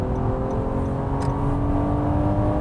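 A 2016 Honda Accord with a V6 engine accelerates smoothly and linearly in a loud, continuous, steady engine drone with no pauses or interruptions.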